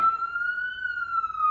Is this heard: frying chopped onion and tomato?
no